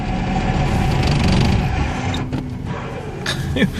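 Metallic creaking and groaning over a steady engine rumble, with scattered clunks and squeaks from a 1999 Plymouth Neon's worn rear struts and bad motor mount, recorded up close.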